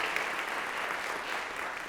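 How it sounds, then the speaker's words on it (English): Concert audience applause for a collaborative pianist rises as a brief, even spatter of clapping from a crowd, moderately faint and steady throughout. "If you would give her a round of applause as well."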